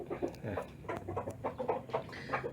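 Soft, rapid peeping and chirping from one-day-old Bangkok chicken chicks kept in a brooding box, a busy overlapping chatter of small calls close by, with no talking.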